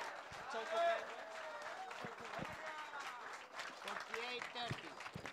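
Crowd applause at a live bass fishing competition weigh-in, a spread of clapping running steadily throughout beneath an announcer's amplified voice.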